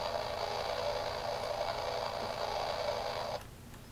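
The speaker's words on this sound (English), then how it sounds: "you can hear the machine guns going off on the turret" Steady, dense mechanical rattling buzz of a toy airplane's turret machine-gun noise, running without pause for over three seconds before cutting off into quieter hiss.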